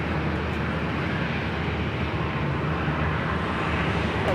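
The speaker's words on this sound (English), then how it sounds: "this is Southwest Airlines in the Arizona 1 livery, flight 792, heading to Austin," A Southwest Airlines jet on flight 792 to Austin, painted in the Arizona One livery, rumbles at LAX as a steady broad engine roar that holds even and unbroken throughout, with no voices.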